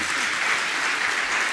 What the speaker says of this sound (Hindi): आपकी तालियां बहुत धीरे बजती हैं।